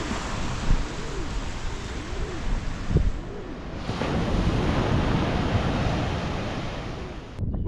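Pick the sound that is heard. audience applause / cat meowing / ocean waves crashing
ocean waves crashing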